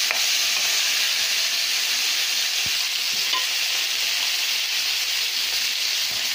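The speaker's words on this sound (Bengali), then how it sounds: "এভাবে আমি সব মাছগুলো ভেজে নেব।" Large vetki fish pieces fry in hot oil for a village-style curry, producing a steady, dense sizzle that holds evenly throughout, with faint occasional taps and no talk.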